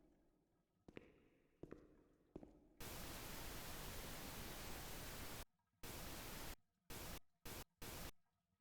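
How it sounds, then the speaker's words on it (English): Radio white-noise static in the horror game The Town of Light: a few faint clicks, then a loud steady hiss for several seconds that breaks into choppy on-off bursts near the end. "White noise from radio"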